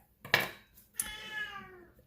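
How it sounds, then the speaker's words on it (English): A big orange house cat of about 20 pounds gives two fairly loud meows, one sharp and short, the next a longer drawn-out cry, in a quiet indoor room. "He's my big orange cat."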